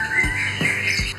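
White-rumped shama (murai) singing at a songbird contest: three quick, bright chirping notes in just over a second, close and clear against a steady background hiss.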